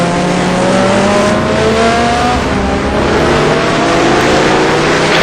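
A Mustang GT race car in a racing video game roars loudly and continuously, its engine pitch climbing through gears in repeated rising sweeps.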